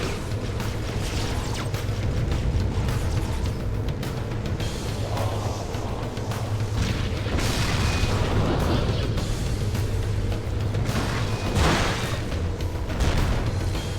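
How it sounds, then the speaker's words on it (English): Fusion drive engines detonate in the game Halo SPV3: a sustained, loud rumbling roar with booming, crackling bursts that continues without letup for the whole span. "When it reaches 0, the engines will detonate."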